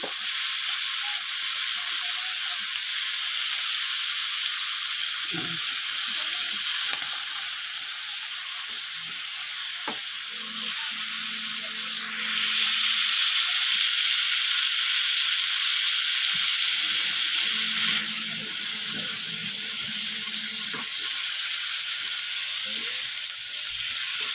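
Large shrimp sizzle steadily in melted butter for buttered shrimp, a loud continuous frying hiss with occasional stirring clatter and low scraping noises throughout, no voices.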